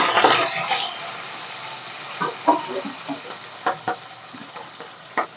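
Chopped onions and green chillies frying in a pan, a steady sizzle with occasional scrapes and stirring clicks of a spoon, close and moderately loud.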